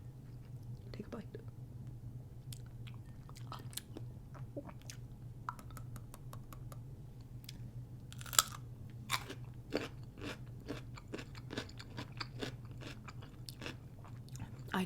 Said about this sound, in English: Take a bite. Take a bite.